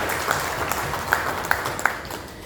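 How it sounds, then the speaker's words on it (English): Audience applause at a tax authority awards ceremony in West Nile, a soft, steady patter of clapping with a few sharper claps standing out, lasting a couple of seconds. "I think let's clap for that."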